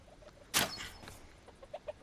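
A chicken clucks in the VR game A Township Tale, a soft series of short clucks with one louder burst of flapping or squawking near the start, at moderate distance.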